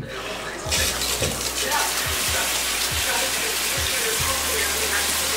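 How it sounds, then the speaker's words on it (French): Shower turning on and running, water suddenly gushing after a brief quiet start and then pouring steadily and fairly loud, with a low pulsing thump underneath and no voices. "Maintenant je vais prendre ma douche"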